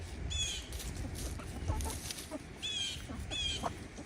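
Backyard hens cluck softly and repeatedly at close range, short squawky calls scattered over a quiet outdoor background with no talk.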